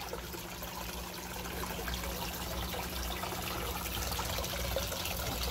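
A soft, steady trickle of water runs through a homemade sand filter, faint and continuous with a slight rise toward the end.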